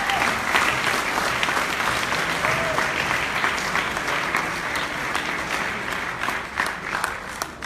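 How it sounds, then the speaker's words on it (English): Sustained applause from a crowd at a high school athletic awards ceremony, dense clapping that holds steady throughout with a faint murmur beneath it. "let's give her a round of applause"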